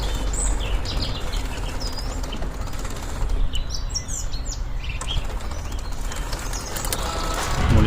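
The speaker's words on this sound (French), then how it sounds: "Non seulement c'est beau, mais il y a plein de petits oiseaux" Small birds chirp all around along the ViaRhôna cycle route toward Saint-Cyr, with scattered high tweets and a flutter of wings over a constant outdoor rush of wind and background noise.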